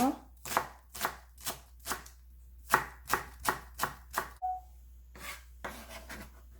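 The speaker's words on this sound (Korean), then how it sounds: "쪽파 하얀 부분만 송송송송 썰어줍니다" A knife chops through the white parts of green onions on a board in about a dozen quick, evenly spaced close strokes, with a short pause and a few more cuts at the end.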